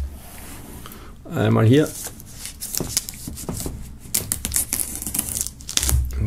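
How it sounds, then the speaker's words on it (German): Plastic shrink wrap is peeled and crinkled off a Sido box set at close range, with several crackling, tearing bursts of varying length as someone talks briefly in German. "Gut, dann machen wir mal die Folie ab."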